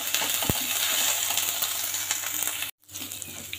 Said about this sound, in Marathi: आता हे छान परतून घ्यायचं आहे.